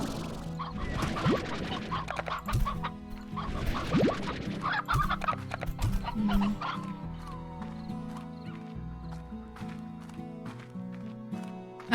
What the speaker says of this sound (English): We have more chickens now.